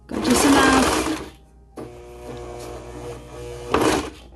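Sewing machine stitching leggings fabric runs in two loud bursts, a steady mechanical whir at the start and again briefly at the end, with a quieter motor hum in between.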